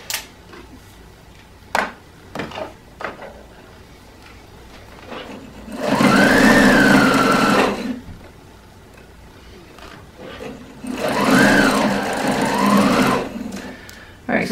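Sewing machine stitching a felted wool sweater snugly around a shoelace to make piping, two loud bursts of rapid mechanical chatter of about two seconds each, separated by quieter handling clicks.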